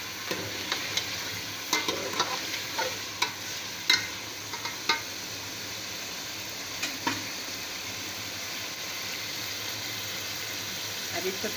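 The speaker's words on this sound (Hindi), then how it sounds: "ये हम भून रहे हैं गोश्त को।" Gosht (meat) sizzles and fries steadily in a pot for chana dal. Scattered metallic scrapes and taps of a stirring spoon punctuate the first few seconds over a constant hiss.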